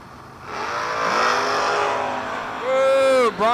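Drag racing launch at the strip: a '98 Camaro and a hot Nova roar off the line together, engines revving up and climbing in pitch, loud and close, with a final sharp rising shift near the end.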